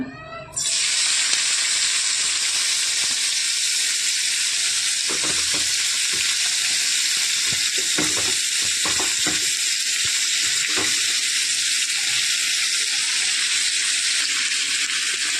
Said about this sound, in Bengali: ফার্স্টে আমি পেঁয়াজটা দিয়ে নেব তেলের মধ্যে।